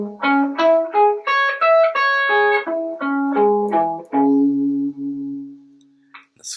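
A minor arpeggio played in fourth position on electric guitar, single notes rising and falling with a slightly distorted tone, close and alone, closing on a held low note that fades.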